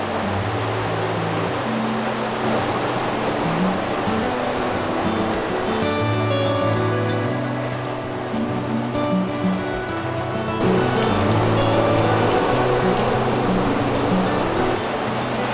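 Heavy rain pours down by a small mountain lake in Switzerland at about 1575 m altitude, a steady broadband hiss with a dense, continuous wash that swells louder partway through, with no talk.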